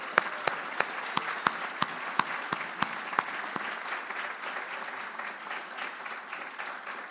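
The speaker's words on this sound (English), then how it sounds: "I'd like to give them a round of applause in recognition." Applause from a conference audience honouring project leads at a capstone event, starting with sharp separate claps that spread into a steady, moderate patter. It sounds fairly distant in a hall.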